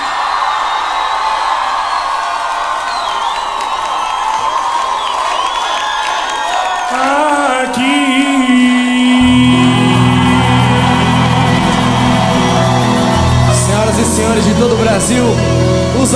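A large concert crowd at a samba show cheers, shouts and applauds loudly and continuously, with a low drone and an announcer's amplified voice rising over the noise.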